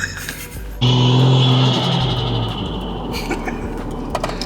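A Ford XR6 ute's engine roars up loudly with a steady low drone inside the cabin, then settles into a rumbling cruise as the vehicle drives on.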